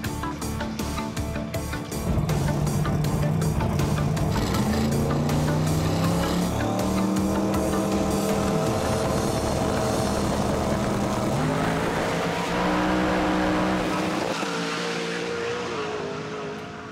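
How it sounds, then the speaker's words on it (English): Street Outlaws drag racing cars roaring on a street, loud sustained engine howl with shifting pitch and harsh tire squeal layered over it, near and continuous before trailing off at the end. "Bunch of tires squealing."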